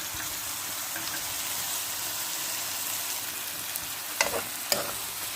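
Mung beans being stirred in a pot, giving a steady sizzling, frying hiss with a couple of sharper scraping clinks of the spoon near the end, close and moderately loud with no voices.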